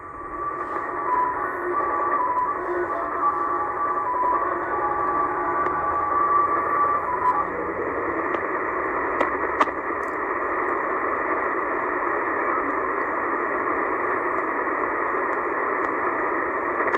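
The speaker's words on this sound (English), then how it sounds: "Japanese naval channel marker, known as the slot machine for basically how it sounds" Japanese naval channel marker radio signal nicknamed the slot machine, picked up on shortwave between 8000 and 9000 kHz during an outdoor band scan: a steady, continuous buzzing drone over band hiss, with faint warbling tones early on.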